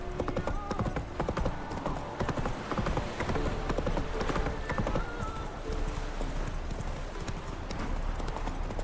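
Rapid clip-clop of horse hooves galloping in The Witcher 3, loud and continuous, with a brief whinny and game ambience mixed in.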